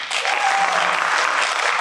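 A seminar audience claps for a volunteer joining the speaker on stage, a short burst of full, steady applause that rises quickly and stays level to the end.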